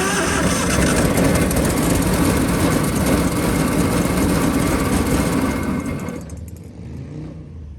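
An old, pieced-together Ford Model T roadster engine running loud and close with a dense, steady rumble, then fading to a quieter idle near the end as it dies down; no talk.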